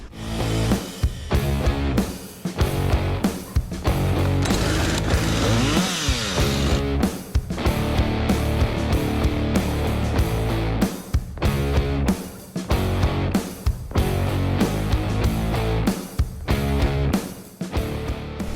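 A chainsaw cuts into a dead tree during felling, close and loud, its engine revving hard through the cut with brief dips and surges over about eighteen seconds.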